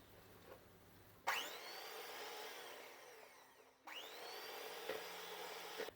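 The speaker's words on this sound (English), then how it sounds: "keep whisking and keep adding more sugar" An electric whisk beats icing sugar into cream cheese frosting for a carrot cake, giving two sustained, close whirring bursts separated by a brief dip.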